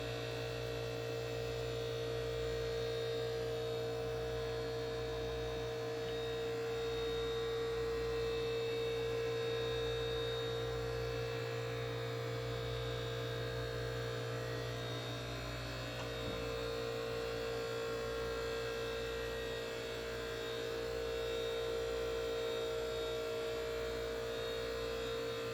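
An air conditioner hums steadily in the port engine room of a 58-foot Hatteras motor yacht, a low, even electrical drone with faint higher whine, continuous and unchanging with no talking.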